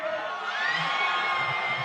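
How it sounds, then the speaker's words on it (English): A large crowd at a BMX park final in Madrid roars and whoops in a sustained wall of cheering, loud and continuous with shouts rising out of it. "the crowd out here is going absolutely wild"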